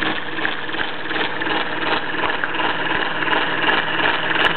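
A Bowman E158 model steam engine on a wooden base runs steadily nearby, giving a dense, rapid mechanical chuffing and clatter that continues evenly throughout with no voices.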